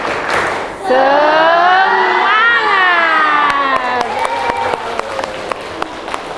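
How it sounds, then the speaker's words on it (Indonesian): A classroom of children in an Indonesian school does a group spirit cheer, voices shouting together loudly with rising chanted tones, followed by a run of sharp rhythmic claps close by. "Kita tepuk semangat dulu, karena ini sudah siang ya. Tepuk semangat."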